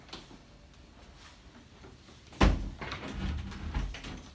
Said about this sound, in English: upon entering, I will close the door